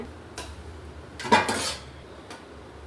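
Hot rice being served for a Sunday chicken curry lunch, with soft scattered clinks of a utensil against dishes and one louder scraping clatter in the middle, close and without talk.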